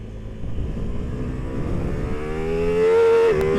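A 2025 Ducati Multistrada V4 S engine climbs in pitch and bounces off the rev limiter during a wheelie, loud and close under wind rush, ending in a stuttering buzz as revs are cut.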